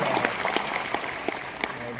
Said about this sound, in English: Let's give her once again a big round of applause to express our gratitude to her.